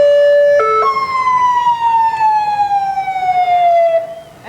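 An ambulance siren wails alone during a parade, a steady tone that jumps in pitch and then slowly glides downward, close and piercing.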